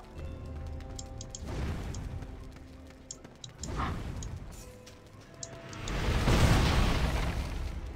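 Three booming cannon blasts in the video game Torchlight 2, with a burst-like noisy character, the last one loudest and longest, over faint ticking and background tones.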